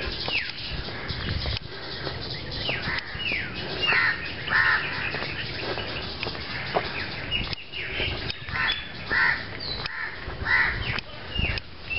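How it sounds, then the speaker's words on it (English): Crows cawing repeatedly outdoors on a hillside, harsh calls at moderate distance rising over steady background noise, with a few fainter bird chirps and no talk. "You can hear the birds."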